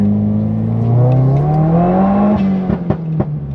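Subaru WRX fitted with a new intake pulling hard in first gear, the engine note rising steadily in pitch under acceleration, loud and close, then cracking with a few sharp pops near the end, no talking.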